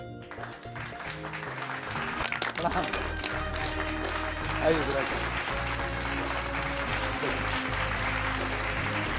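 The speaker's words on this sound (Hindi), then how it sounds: "जोरदार तालियों के साथ उनका स्वागत कीजिए" A studio audience applauds to welcome a Brahma Kumaris Rajyoga teacher onto a talk show; sustained clapping runs beneath music, while a host speaks briefly over it.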